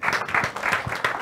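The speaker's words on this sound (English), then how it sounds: "a good round of applause for that initiative" Audience applause at a renewable energy forum, a short burst of close, uneven clapping from a modest crowd with rhythmic pulses throughout.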